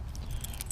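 An old key ring jangles outdoors in the sunshine while keys are sorted, giving a soft, steady metallic clinking with a few brighter jingles near the end.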